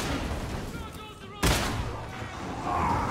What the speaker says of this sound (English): Is that a piercing shot?